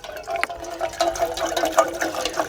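Water is poured into a pot for black tea on a rocket stove, a short close stream of splashing and filling that runs continuously for a couple of seconds.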